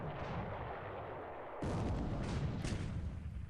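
Naval combat explosions from a hit on the Japanese carrier Junyo in War in the Pacific, a continuous roaring rumble that jumps abruptly into a louder, harsher blast partway through.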